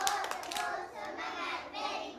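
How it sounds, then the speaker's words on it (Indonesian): A preschool class claps a quick rhythmic encouragement pattern together, sharp hand claps bunched at the start and then fading into softer, blurred clapping, all fairly quiet and distant. "Tepuk semangat untuk semua."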